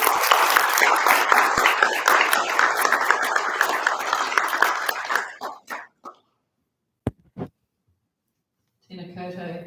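An audience in a hall gives a speaker a round of applause, with dense, loud clapping for several seconds that fades into scattered claps, a cough and quiet before a voice begins.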